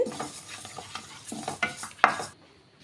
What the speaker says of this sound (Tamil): பாசிப்பருப்பு சீக்கிரம் ஃப்ரை ஆயிரும் நமக்கு